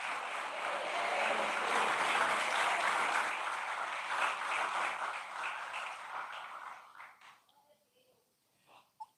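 Church congregation applause after a Portuguese-language sermon reading, a full sustained crowd clapping that holds steady and then gradually thins out and fades, leaving a few scattered claps and faint murmurs at the end.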